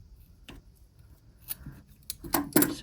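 Scissors snip through cord in a few short, sharp cuts close by, quiet apart from the snips, with no talking.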